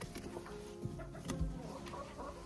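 Chickens cluck in short, scattered bursts from a backyard flock being coaxed out, fairly close and moderately loud over a soft background.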